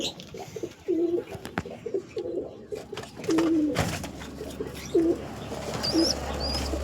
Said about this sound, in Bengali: দেখো দেখো দেখো ওটা ছটফটে পায়রাটা